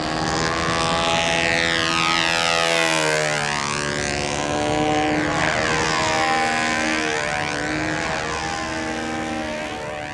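Propeller-driven model airplane flying overhead, a loud continuous buzzing drone with shifting pitch as it passes near and away, dipping and rising across the span with no talk.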